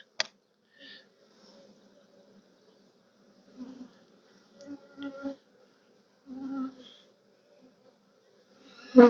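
Honeybees buzz around an open spring hive carrying bright yellow pollen, in short, scattered buzzes that come and go in a quiet setting, and one loud burst comes close at the end.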